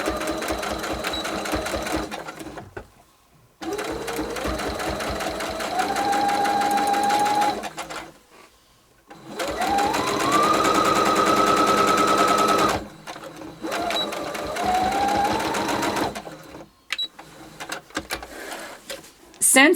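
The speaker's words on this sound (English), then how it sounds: "Start sewing from the finished end" A sewing machine runs a narrow quarter-inch seam through wedding dress satin, whirring in three long bursts separated by brief pauses, close and steady, with a person talking in between.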